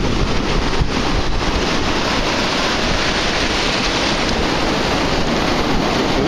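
Stormy ocean surf roars continuously and loudly, a dense wall of breaking waves close by with wind buffeting the microphone throughout.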